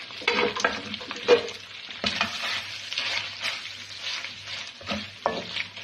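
Chopped green chillies fry in a pan over mustard seeds, crackling and sizzling up close as a spoon stirs with uneven scraping bursts, and no one speaks.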